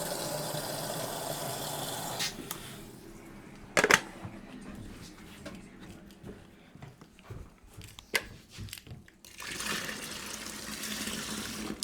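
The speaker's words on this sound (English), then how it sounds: "So let's get the cold water in it. Right, I'm just going to use the kettle" Cold water pours from a kettle into a home beer brew, a soft splashing, trickling stream with a few clunks and bumps partway through before the pour resumes steadily.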